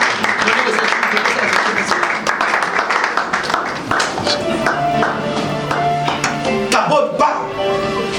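A church congregation claps and cheers in acclaim of the Lord, a dense, loud burst of applause that gradually gives way to music and voices.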